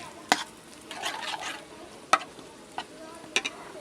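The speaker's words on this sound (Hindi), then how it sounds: "इसनूं अच्छी तरह मिक्स कर लेना दही के अंदर" Chickpea paste being mixed into yogurt for an egg and chickpea curry, heard as a few sharp spoon clinks against the bowl with soft wet stirring between them, close and fairly quiet.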